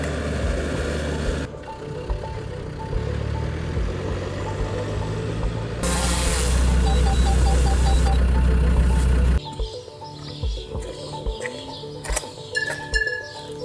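A vehicle engine drives along an off-road track in Vashlovani, Georgia. It runs as a steady rumble that shifts in loudness, with one louder, heavier stretch in the middle, and faint chirps come through in the quieter later part.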